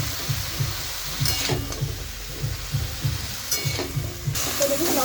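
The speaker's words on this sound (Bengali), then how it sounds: "এখন নাড়িয়ে চাড়িয়ে খুব ভালোভাবে মিশিয়ে নেব।" Bottle gourd greens and shrimp with potato and salt being stirred in a pan, giving a steady rhythmic scraping and shuffling over a soft sizzle, close and moderately loud.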